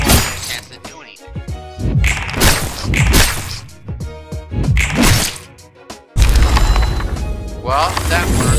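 Sharp cracks and booming impacts in Library of Ruina during a sniping attack, several loud hits and shattering bursts spread across the stretch, ending in a sustained crashing roar.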